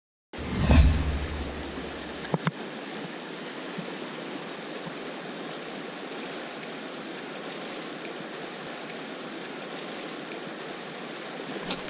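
A mountain trout river rushes steadily, a constant loud broadband wash of flowing water after a brief thump at the start, with no voices over it.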